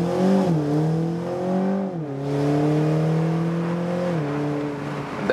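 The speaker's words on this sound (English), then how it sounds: "Hitting now the brake with my left foot all the way through, and then I'll push my right foot all the way through the throttle." A BMW Z4 sDrive30i roadster with its four-cylinder engine launching under launch control to 100 km/h, loud close engine note climbing steadily in pitch through several gear shifts with brief dips between them.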